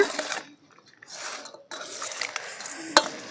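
Gongura pickle is stirred and mixed in a bowl with a spoon: soft scraping and clinking strokes come in uneven bursts, close and fairly quiet, with a sharp metallic tap near the end.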